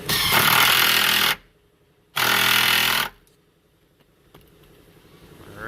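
Power tool tightening a front seatbelt bolt in a Hyundai Elantra or Accent: two loud, rattling impact bursts of about a second each with a short pause between, then quiet clicks.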